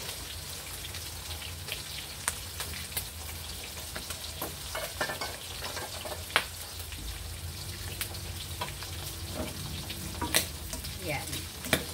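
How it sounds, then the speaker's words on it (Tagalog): Cooking oil sizzles in a pan while ingredients are sautéed for a vegetable and fish lunch, a soft continuous crackle broken by occasional sharp pops and spatters, with no talk. "Dagdagan na natin ang kanyang mantika. Para tayo'y makapag-gisa na."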